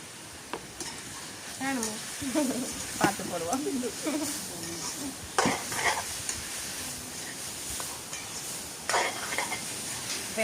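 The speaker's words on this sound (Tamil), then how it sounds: "இந்த தக்காளி பழம் கறி மிளகாய் எல்லாமே சேர்ந்து வதங்க விட்டு பார்ப்போம்" Tomatoes and curry chillies sauté in a pan for a Sri Lankan-style tinned fish curry, with steady sizzling broken by repeated scraping stirs and light clinks of utensil on pan, while a voice talks intermittently underneath.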